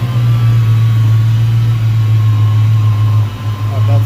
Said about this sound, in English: Just hearing the power steering pump.